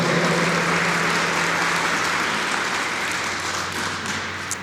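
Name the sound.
church congregation applauding loudly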